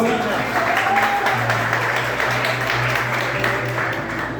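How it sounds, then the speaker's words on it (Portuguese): A church congregation claps for their female pastor in a meeting hall, a steady wash of applause with voices and a low hum underneath. "Vamos aplaudir nossa pastora."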